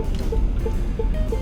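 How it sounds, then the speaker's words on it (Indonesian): Inside a moving Tank car, a blind spot warning chimes as short, soft tones repeating about three times a second, faint under steady road and engine rumble. "Itu suara blind spot."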